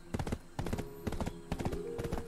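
Horse hooves clip-clop in steady bursts in Black Desert Online near a bridge and horse spawn area, fairly close, with a brief whinny-like tone and no talking.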